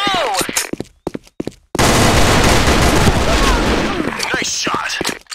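Rapid gunfire bursts fill a video game match, a few sharp shots and voice fragments at first, then a sustained loud barrage of overlapping shots and impacts that continues steadily to the end.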